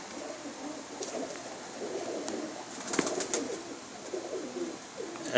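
A breeder pair of pigeons coos softly in low, repeated, rolling calls, fairly faint and close, with no talking.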